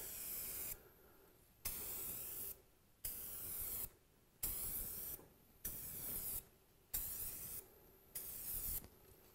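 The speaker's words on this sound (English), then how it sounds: "And using a fan spray," A spray gun lays self-etching primer onto bare metal in a fan pattern, giving eight or nine evenly spaced bursts of hissing spray separated by short silent pauses, quiet and close.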